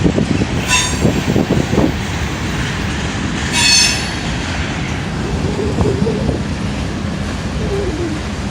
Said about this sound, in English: I'm glad that's stuck on brakes like that.